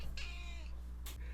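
A house cat gives a single close, drawn-out meow, followed by a brief second vocal sound against quiet indoor background hum.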